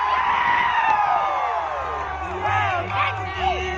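At a cherry blossom festival DJ set in Shillong, a large crowd screams and cheers continuously, high whoops and shrieks rising and falling over a low thumping music bed.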